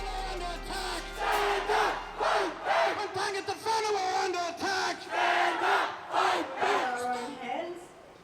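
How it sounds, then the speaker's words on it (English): A crowd gathering at an anti-racism rally in Aotearoa, with loud rising and falling chants and shouts in repeated bursts, voices close and massed. "great crowd gathering here"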